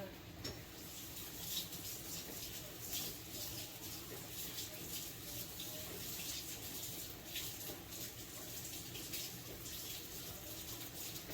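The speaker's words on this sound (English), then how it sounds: "Let me go rinse this one because my spaghetti is just about done." Tap water runs steadily into a kitchen sink while a spoon is rinsed, giving a soft, continuous faint splash for several seconds with no clear speech.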